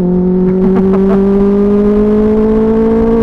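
A car engine holds a steady, loud drone close by while a vehicle overtakes on the road, with brief revving bursts early on before settling into an even hum.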